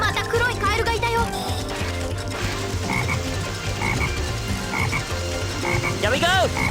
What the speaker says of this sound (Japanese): あ、また黒いカエルがいたよ。